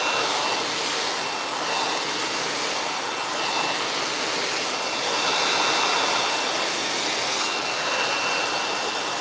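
A handheld blow dryer runs steadily and fairly loudly while a stylist works a brush through a client's naturally textured, color-treated hair, its broadband airflow rush varying only slightly as the dryer moves.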